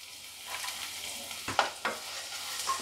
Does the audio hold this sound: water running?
no